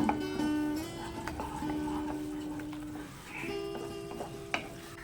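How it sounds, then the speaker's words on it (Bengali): Soft, continuous sizzling of spices frying in oil, with occasional scraping and clinks from stirring and a faint tonal hum in the background. "যতক্ষণ না মশলা ভাজা ভাজা হয়ে আসছে তেল ছেড়ে দিচ্ছে ততক্ষণ পর্যন্ত আমরা কষে নেব"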